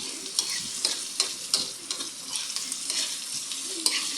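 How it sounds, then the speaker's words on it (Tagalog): Chayote pieces being stirred into pork dinuguan in a hot pan, giving a steady close sizzle with repeated scraping and clinking strokes of a utensil against the pan, no voices. "halo-halo lang hanggang mag-mix combine yung mga mga condiments na nilagay ko"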